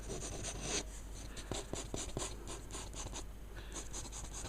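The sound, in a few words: quick sketching on paper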